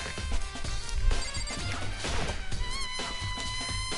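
Glass shattering in the video game Danganronpa, a loud crash with scattered bright shards and tinkling fragments, repeated in bursts over a busy game soundtrack.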